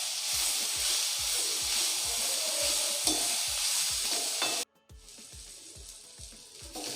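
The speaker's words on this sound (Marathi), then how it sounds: "आता आपल्याला कांदा पूर्ण गोल्डन कलर होईपर्यंत व्यवस्थित परतून घ्यायचा आहे" Onion sizzles as it is sautéed in a pan until golden, a steady frying hiss broken by regular scraping strokes of a stirring spoon, close and continuous with a brief pause near the end.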